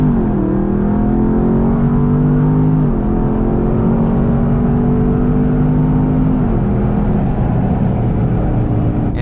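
A Dodge Charger Scat Pack with an automatic transmission pulls hard from about 40 mph in second gear. Its loud, steady engine roar climbs in pitch, with brief dips where it shifts, and there is no talk over it.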